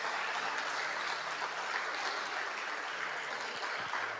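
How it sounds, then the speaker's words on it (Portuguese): A church congregation applauding during a worship service, a steady, moderately faint wash of clapping that continues evenly without pause. "aplauda o Senhor mais uma vez."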